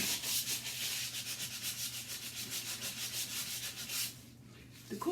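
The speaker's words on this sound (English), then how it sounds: "It doesn't take much to run the sandpaper over it to give it that aged and distressed look." Sandpaper rubs back and forth over a black chalk-painted wooden Halloween prop to distress it, a steady run of close, rhythmic scratchy strokes that stops near the end.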